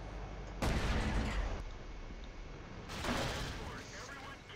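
Tank cannon fire in the World of Tanks video game: two heavy, booming shots a couple of seconds apart, each trailing off in a rumble, with someone speaking briefly over them.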